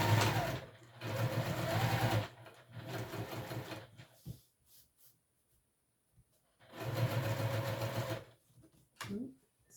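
A sewing machine basting a wristlet lining at top-stitch length runs in three close, loud bursts of rapid stitching separated by quiet pauses, with small handling clicks in between.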